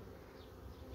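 Honey bees buzz at an apiary hive in February, bringing in pollen, a soft continuous droning hum of many insects, close but quiet, with no talking.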